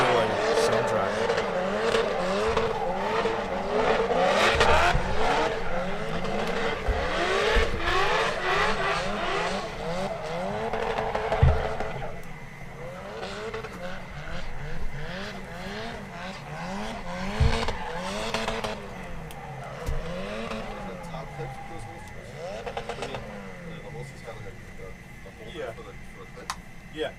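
Formula Drift cars at Wisconsin's Road America track squeal their tires and rev hard in a loud, continuous run of drifting, with engine pitch sweeping up and down and bursts of skidding, heard from a balcony over crowd noise and nearby talk.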